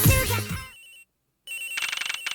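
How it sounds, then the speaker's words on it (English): A cell phone ringtone in the Ace Attorney Investigations video game, ringing in a flight attendant's room aboard a passenger flight. The ringing is a repeating electronic trill of quick, even pulses, loud and close, following a burst of game sound and a brief silence. "The ringing's coming from somewhere in here."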